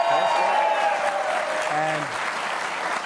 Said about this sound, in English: the applause is kind of loud